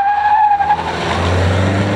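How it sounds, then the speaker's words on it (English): A Nissan X-Trail stopping hard on its standard anti-lock brakes, with loud tire squeal and skidding at close range and a low rumble building underneath as the car halts. "Likewise, the standard anti-lock brakes. They put a quick halt to the proceedings without any unwanted electronic intervention."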